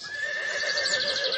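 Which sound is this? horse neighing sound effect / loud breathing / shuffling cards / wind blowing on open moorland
horse neighing sound effect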